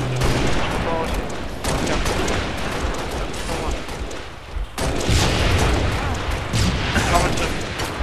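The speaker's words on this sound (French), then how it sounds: "y'en a un qui me tire dessus là" Gunfire in a first-person shooter as an enemy fires on the player, dense bursts of shots and booms filling the whole stretch, loud and continuous, with a voice speaking underneath.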